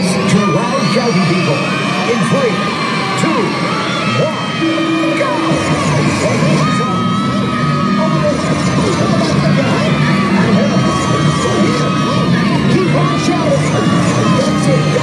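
A large crowd of children shouts and cheers loudly and without pause at a Butlin's Roblox robot show, with a presenter's voice partly audible under the din.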